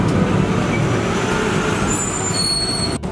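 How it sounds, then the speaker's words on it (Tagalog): A garbage truck collecting rubbish from houses and buildings rumbles steadily as a loud, continuous low engine drone of nearby road traffic, ending with a brief sharp hiss or clunk. "Yan po yung garbage truck na kumukuha ng basura sa lahat ng mga bahay at mga building"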